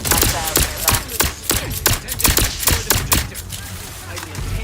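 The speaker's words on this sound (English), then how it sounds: "Riddle me with bullets all you like!" Rapid video game gunfire, a steady run of sharp, evenly spaced shots at close range, with speech likely mixed in underneath.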